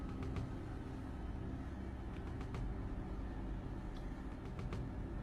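A Mercedes-Benz car moves slowly around an outdoor area near three men, heard as a low rumbling engine and road noise with a few faint clicks, steady and fairly close, without talk.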